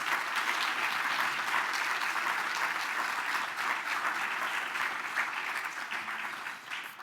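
A sustained round of applause from an audience at a Veterans Day recognition ceremony honoring an expert from the Circuit Court of Cook County; loud, dense clapping that continues evenly and tapers slightly at the end.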